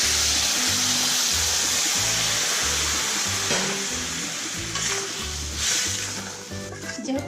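Hot water pours into a pan of frying potatoes and pointed gourd for a rohu fish curry, giving a steady loud hiss and sizzle throughout over a low, rhythmic background.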